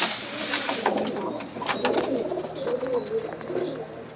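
Pigeons, including a pair with blue bars, coo softly and repeatedly in a loft, with brief flutters and chirps mixed among steady low murmuring.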